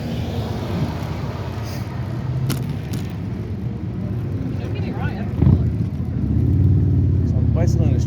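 Road traffic on a beach street at Fort Myers Beach, Florida, a continuous loud rumble of passing cars with vehicles swelling nearby toward the end, under someone talking.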